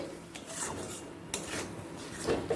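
A spoon stirs mango kasundi mixed with vinegar and salt in a bowl, giving faint scraping and soft clinking against the dish in a close, quiet kitchen.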